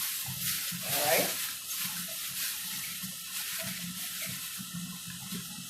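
Warm water pours into a cup for doughnut dough in a steady, soft trickle and splash, quiet and close, with a brief louder gush near the start.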